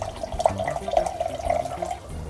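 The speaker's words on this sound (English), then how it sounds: "We're gonna collect a little bit of water" Water runs steadily from a Life Ionizer 9000 water ionizer into a clear glass, a continuous close trickle with a faint ringing tone as the glass fills.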